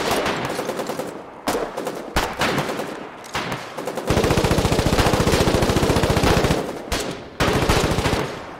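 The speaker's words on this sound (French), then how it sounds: "Asdil avec sa mitrailleuse" A machine gun fires in the war game Foxhole: loud, close bursts of rapid shots with brief gaps, then one long, unbroken stream of rhythmic fire before short bursts resume.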